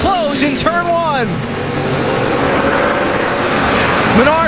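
NASCAR stock cars at the Brickyard 400 in Indianapolis roaring past in quick succession early on, engine pitch sweeping downward, then a sustained loud race din with another car approaching at the end, under commentary.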